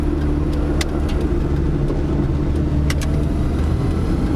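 Car with a badly faulty transmission driving off, a steady low engine rumble and road drone at close range, with a couple of faint sharp ticks and no talk.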